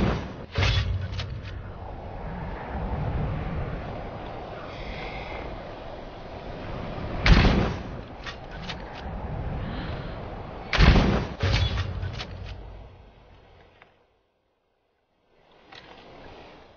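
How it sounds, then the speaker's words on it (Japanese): A siege ballista firing in Skyrim, several loud, sharp thumping launches spaced apart over a rumbling backdrop, trailing off into near silence near the end. "この工場用バリスタでやっちゃいましょうか"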